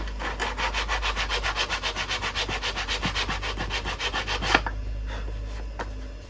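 Wood being sanded by hand for a repair, with steady rhythmic back-and-forth rubbing strokes close up for about four and a half seconds, then stopping, leaving a quieter scrape or two.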